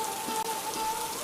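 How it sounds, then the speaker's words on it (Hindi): Heavy rain falling at night in a cartoon story, a dense steady hiss of rain on surfaces, loud and continuous with a faint tone running underneath. "बेटी, आज रात बहुत तेज बारिश है।"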